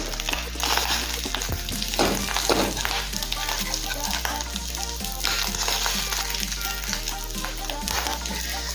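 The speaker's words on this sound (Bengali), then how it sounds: "মাছের ডিমের অপর পিঠটাও হালকাভাবে ভাজা হয়ে গেছে।" Fish roe fries in oil in a kadai, a continuous close sizzle broken by repeated scraping spatula strokes and crackling bursts, over a faint low hum throughout.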